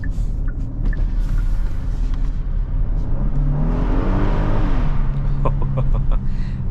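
A 2023 Genesis GV70 3.5T in sport mode accelerates hard from inside the cabin, its engine note rising steadily in pitch over a loud, continuous road roar.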